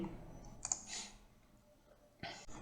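Computer mouse clicks as a web browser is opened on a desktop: a few sharp, quiet clicks near the start and another pair toward the end, alone with faint room noise and no talk.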